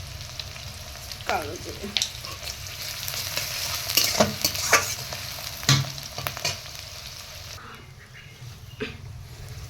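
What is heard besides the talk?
black cumin frying in hot mustard oil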